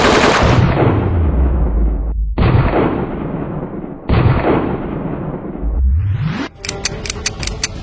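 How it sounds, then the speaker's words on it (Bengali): Rapid bursts of gunfire in a comedy sketch ring out loud and close, crackling in long sustained volleys that stop abruptly, then resume, ending with a few sharp separate cracks. "নিচে গুলি কর, প্যান্টে গুলি কর।"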